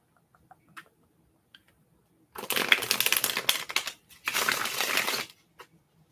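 Tarot cards being shuffled in a quiet room, two dense bursts of riffling and crinkling a few seconds apart, close and crisp, with faint ticks before and after.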